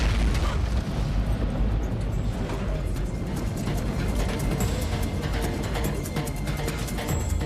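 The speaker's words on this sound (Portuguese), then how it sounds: "há um estrondo." Passenger aircraft in flight nearing cruising altitude when an engine explodes, a heavy continuous roar and rumble with a broad booming body that stays loud throughout.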